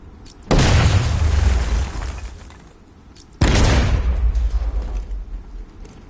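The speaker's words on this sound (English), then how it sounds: "apply the explosive directly to destroy that wall" Two loud explosive charges blowing up a wall in Batman: Arkham Knight, each a sudden heavy boom with a long rumbling, debris-filled decay, the second following about three seconds after the first.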